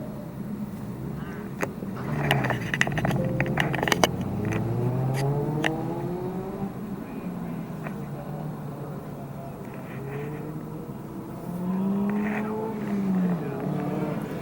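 Lincoln Town Car cab limo on a test drive, engine droning and rising in pitch as it accelerates, heard from inside the cabin with people talking over it throughout.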